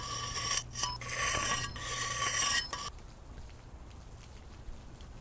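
A knife blade rasps steadily against a sharpening stone in a video game, loud continuous grinding strokes with brief pauses, then falling to a faint hiss after about three seconds.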